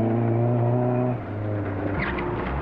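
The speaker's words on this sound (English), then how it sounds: "Pete and Joe Johnson ask their Astra to do a little more than can be expected of it" An Astra rally car at the 1996 Wexford Rally roars past at speed. The loud engine note drops sharply as it goes by, then fades into a lower receding growl.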